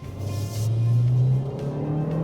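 A 2025 Hyundai Sonata sedan accelerating hard from a green light, its engine note climbing steadily in a loud, continuous rising drone heard from inside the cabin.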